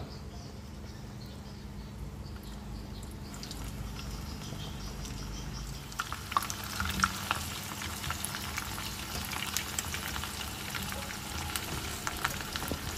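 Breadfruit sizzles and crackles steadily in a hot pan, with scattered pops growing busier partway through, close and fairly quiet.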